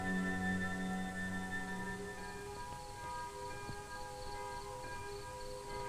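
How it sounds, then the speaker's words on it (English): A curfew bell tolls at nightfall in a mountain village, one resonant strike ringing out and fading with a long sustained hum, then a softer follow-on tone, without any voices. "the curfew bell tolled its warning"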